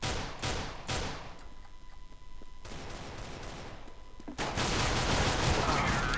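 Gunfire in the game Counter-Strike: Global Offensive, with a burst of shots at the start and a loud, dense stretch of rapid firing in the last couple of seconds.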